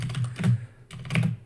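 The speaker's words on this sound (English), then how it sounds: "So now we type in npm" Keys clatter on a computer keyboard as a command is typed, two short bursts of close, crisp keystrokes separated by a brief pause.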